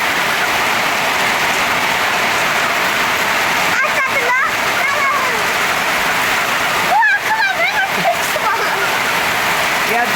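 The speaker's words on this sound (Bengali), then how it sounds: "যা আমার ভ্যানে বৃষ্টিতে ভরে গেল" Heavy afternoon rain pours down steadily in a village, a loud, continuous rush of water, with brief voices rising over it twice.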